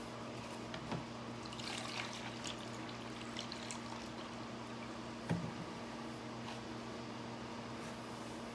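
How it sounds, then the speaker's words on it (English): Pickling liquid for sour dill pickles pours and trickles steadily into canning jars, a faint, continuous liquid stream with a low steady hum beneath it and a brief clink partway through. "Add some more of our pickling liquid."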